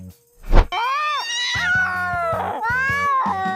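A house cat facing two tigers in a residential area lets out loud, drawn-out threatening yowls and wavering caterwauls, close and alone apart from a brief rustle.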